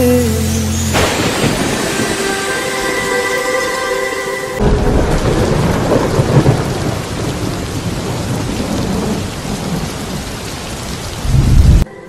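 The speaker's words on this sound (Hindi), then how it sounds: "ये मौसम की बारिश, ये बारिश का पानी, ये पानी की बूंदें तुझे ही तो ढूंढे।" Thunder rumbles over steady heavy rain within a Hindi song mashup, loud and continuous, the music fading out partway as the rain and crackling thunder take over.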